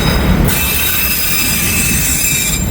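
A train rolls steadily past with continuous broadband rumble and a sustained high metallic wheel squeal across the whole stretch, loud and close.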